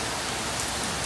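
Heavy rain falls steadily, a dense, continuous wash of noise at constant loudness.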